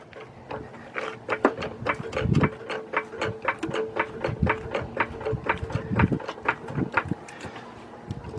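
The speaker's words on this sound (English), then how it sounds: "I'm gonna jack the engine up now, and watch how the engine comes up" A floor jack being pumped to raise the 3.0 engine of a 2001 Saturn L300 during alternator and belt work, giving a steady run of sharp, evenly spaced mechanical clicks and clunks, close and fairly loud, with no talking.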